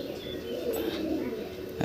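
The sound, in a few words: pigeon cooing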